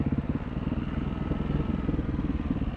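A dirt bike engine chugs at low revs in first gear, engine braking downhill on a trail, with a steady pulsing burble, close by, without any voices.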